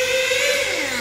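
A nitro-powered RC car engine screams past on a large RC race circuit, a brief, loud high-pitched whine whose pitch drops as it goes by.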